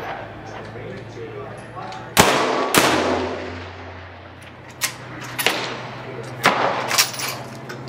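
Several sharp, loud gunshots crack past Garmin and LabRadar chronographs, spaced a second or more apart, each with a short echoing tail, and voices talk between the shots.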